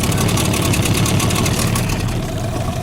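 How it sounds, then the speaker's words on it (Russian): A Suzuki 9.9 outboard motor idles steadily and close by, a continuous low rumble with a faint rattling vibration, no voices over it. "вот Suzuki на холостых оборотах"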